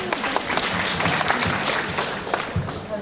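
An audience applauds a trainer being introduced on stage at Alfa-fest 2012, a steady, dense crackle of many hands that holds evenly for about three seconds, with a few louder claps poking through.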